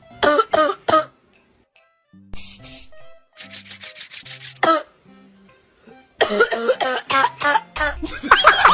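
Several short coughs and throat-clearing bursts come in irregular clusters, close to the microphone, separated by quiet pauses and some rough rustling.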